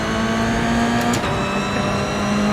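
Toyota GR86 race cars in iRacing accelerate hard at a race start, a loud steady engine drone with a brief gear-shift dip midway before the revs climb again.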